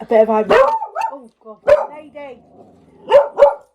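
A dog barks several times at close range in a home, short sharp yaps interleaved with someone speaking in between.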